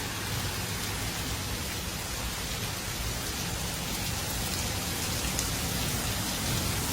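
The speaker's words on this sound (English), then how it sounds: "The storm, the rain, look at that." Heavy rain pours steadily during a summer storm in Côte Saint-Paul, Montreal, a dense, unbroken hiss of drops hitting surfaces with no voices and no clear thunder.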